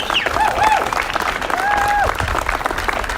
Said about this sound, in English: give a good hand clap to our police officers and all of our essential workers